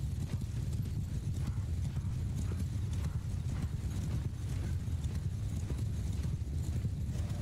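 Horses' hooves galloping in Mount and Blade II: Bannerlord, a dense, continuous clatter of many hoofbeats at steady loudness throughout, with no talk over it.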